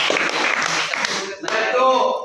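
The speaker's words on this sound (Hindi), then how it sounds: "बिल्कुल सही, जोरदार तालियां बजाइए।" Classroom clapping in a ninth-grade lesson: a short, loud burst of pupils' hands clapping together, fading toward the end with a voice over it.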